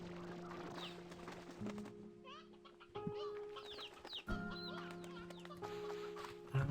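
Painted hens in the video game Slime Rancher 2 cluck and squawk in scattered bursts over a steady droning game ambience, with no speech.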